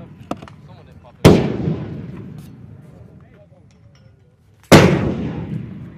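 Gunfire from a UH-1Y Venom helicopter during air assault training: two loud, heavy booming shots several seconds apart, each with a long rumbling decay, and faint radio chatter between them.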